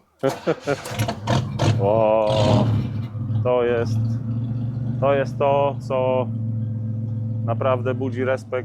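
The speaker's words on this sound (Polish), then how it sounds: "ten dźwięk na wolnych obrotach" A 1978 Buick Skylark's American V8 rumbles steadily at idle, a deep continuous low throb with a brief rev near the start, while someone talks over it throughout.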